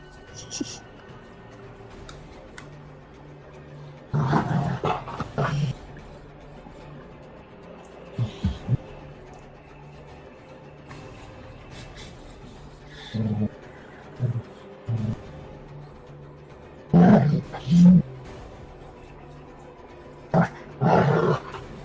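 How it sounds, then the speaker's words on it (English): Two dogs play in the background, letting out growls and short bursts of snarling and barking at intervals, with people talking throughout. "Yeah, I have 2 dogs playing. There's an angry dog."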